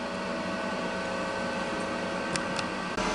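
A Ninja Foodi XL cooker with chicken thighs inside runs with a steady, even mechanical whir and fan hum, close by, capped by a couple of faint clicks near the end.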